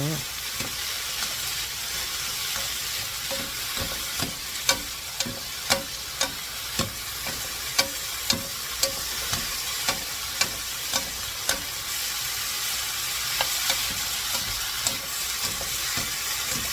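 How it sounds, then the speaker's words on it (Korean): Julienned potato strips stir-frying in a hot pan, a steady close sizzle broken by regular clacks of a utensil stirring and scraping, with no talk. "감자가 색깔이 맑아질 때까지 볶을 거예요"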